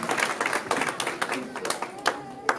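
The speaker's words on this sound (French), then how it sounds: "Je vous demande de vous applaudir vous-même" A conference audience claps at an evening event, a dense, continuous patter of many hands filling the room at moderate volume, with voices mixed in.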